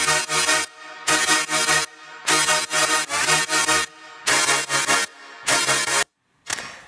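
Two synth leads play together, the second with boosted highs, in a run of short bright chord bursts separated by brief silences, ending with a final short hit.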